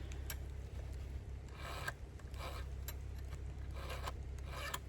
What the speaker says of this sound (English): I got a flat file too I found, so I'm going to give a couple rubs